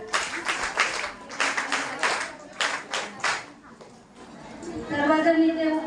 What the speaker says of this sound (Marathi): त्यांच्यासाठी एकदा स्वागत टाळ्या.